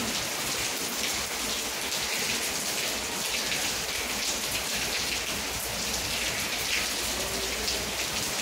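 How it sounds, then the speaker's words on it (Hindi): Rain falls steadily outside onto a building's garden, a dense, constant patter that stays close and even from start to finish. "नीचे बारिश हो रहा है"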